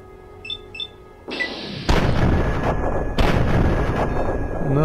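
Gunfire in Fallout 3 erupts as heavy booming shots, with a couple of loud blasts about a second apart after faint beeps, each leaving a dense rumbling, echoing tail.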